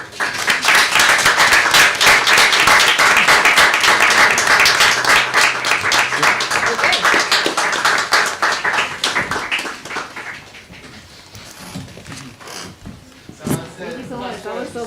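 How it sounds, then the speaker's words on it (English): An audience at a zine fest and book launch gives a round of applause, loud, dense clapping that thins out after about ten seconds into scattered claps, with a sharp single clap near the end and speech faintly under it. "Round of applause."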